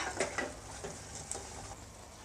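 Okra frying in a pan for okra palya, a soft steady sizzle with faint scattered clicks and light stirring taps, quiet and close.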